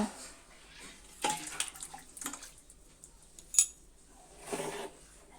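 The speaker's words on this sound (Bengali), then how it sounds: "এখন আমি ঢেলে নিব" Mutton curry with potatoes is poured out of a pot, with quiet spoon-and-pan clinks and wet scraping in a few separate bursts, faint and close.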